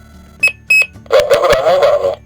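A Guardian alarm control panel sounds two short electronic beeps, then a longer, buzzier tone as a sensor is tripped during programming, close and clear.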